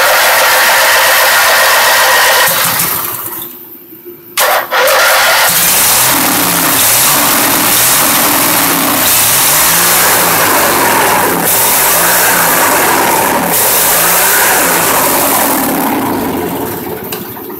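An MTD Huskee riding mower engine cranks, catches after a brief pause and settles into a loud, steady running drone with a rhythmic pulsing throb, close by and with no talk.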